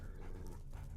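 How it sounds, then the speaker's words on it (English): A dog pants quickly and closely while following the player in Metal Gear Solid 3, a brief run of soft, rapid breaths. "The dog's still following me."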